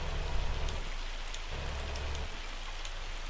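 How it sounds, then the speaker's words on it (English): Hail falls in Farming Simulator 25 during a harvest, a dense, steady patter of pellets drumming on surfaces with a low rumble underneath and no talking. "Harvesting in the hail."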